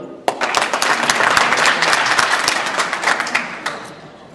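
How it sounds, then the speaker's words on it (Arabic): A wedding celebration crowd claps together, a sudden burst of close, brisk hand claps that builds, holds, then thins out. "صفقوا."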